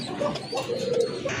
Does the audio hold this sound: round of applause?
no